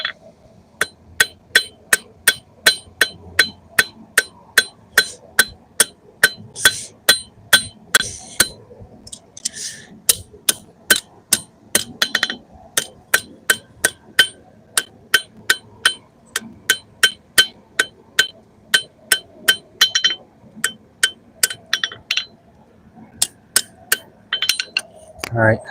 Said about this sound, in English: I'll get the small hammer now and clean this up.